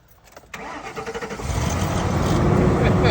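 A vehicle engine cranks briefly with a rhythmic starter whirr, then catches and rises into a steady, loud running roar close by.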